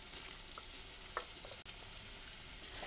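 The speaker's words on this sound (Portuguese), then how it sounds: "Mexemos e deixamos refogar mais um pouco." Onion and pepper sizzle steadily in a hot pan, with a few soft stirring scrapes and a brief clatter partway through.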